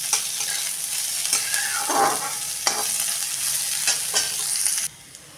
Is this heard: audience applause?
no